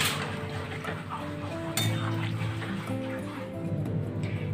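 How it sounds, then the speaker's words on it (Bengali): Bori lentil dumplings and bitter gourd stirred in a cooking pan for shukto, giving repeated metallic scrapes and clinks of a utensil against the pan over a low, steady background hum. "বড়ি উচ্ছে দিয়ে একবার নেড়ে নেব"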